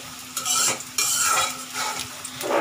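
Browned onions frying for a chicken roast, a loud close sizzle broken by repeated scraping strokes of a utensil against the pan, with no talking.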